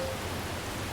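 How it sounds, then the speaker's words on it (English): Steady rain hisses down as a dense, continuous wash in Farming Simulator 22, loud and even throughout with no voices. "as soon as the rain set in"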